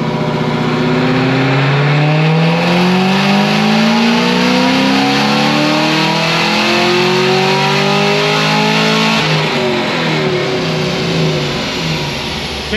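Modified Cadillac CTS-V with 35,000 miles revving hard on a dyno: a loud, continuous engine roar climbing steadily in pitch through the gears, then easing off near the end.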